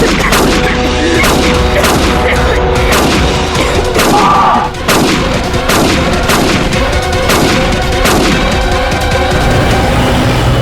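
Rapid gunfire from a Hindi TV crime drama, a dense volley of sharp repeated shots rattling steadily and loudly for about ten seconds with no speech.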